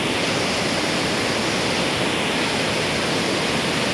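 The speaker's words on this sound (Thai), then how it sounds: "นี่คือน้ำตกห้วยจันทร์อำเภอขุนหารจังหวัดศรีสะเกดนะครับคุณผู้ชมครับสถานการณ์น้ำตอนนี้ ไหลแรงทีเดียวนะครับ" Huai Chan waterfall in Khun Han, Sisaket, Thailand, flowing strongly, a steady dense roar of rushing water that fills the whole clip with no voices.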